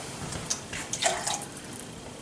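Water poured into a pan of soup mix and onions, a brief splashing trickle with a few small splats, close and fairly quiet against a faint background hiss.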